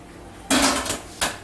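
A metal colander drops into a pot holding an inch or so of water for steaming baby food, giving a loud close clatter of metal on metal and a second shorter clank a moment later.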